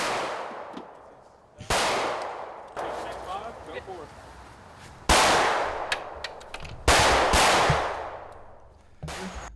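Heavy shots boom at an outdoor shooting range, a handful of loud, sharp reports spaced a second or two apart, each trailing off in echo, with a voice speaking faintly between them.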